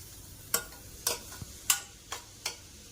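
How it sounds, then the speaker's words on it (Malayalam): Mango and onion are stirred as they sauté in a pan, giving six sharp scraping and clinking strokes of the spoon at irregular intervals over a faint, steady sizzle. "അപ്പം നമ്മുടെ മാങ്ങയും ഉള്ളിയെല്ലാം വഴന്നിട്ടുണ്ട്."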